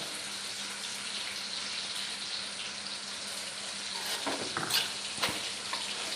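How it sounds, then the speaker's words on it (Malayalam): Taro leaf and dried fish thoran with coconut oil being stirred in a clay pot, a soft continuous sizzle with a few scraping stirs and clinks toward the end. "പച്ച വെളിച്ചെണ്ണയോട് ഒഴിച്ച് ഇളക്കി സ്റ്റൗ ഓഫ് ചെയ്ത് വെക്കാം"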